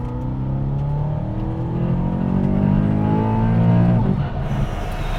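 A supercharged G-Power BMW E92 M3 pulls hard under acceleration, its engine drone rising steadily in pitch through the revs, loud and close from inside the car, before easing off near the end.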